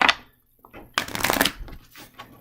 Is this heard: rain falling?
no